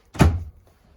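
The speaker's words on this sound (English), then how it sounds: "Opening up this bathroom door, give you access into the bathroom." The bathroom door of a 2015 Wildwood 402QBQ RV gives a single short, close thunk as it opens, fading quickly into quiet.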